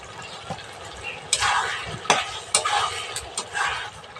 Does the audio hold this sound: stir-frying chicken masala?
yes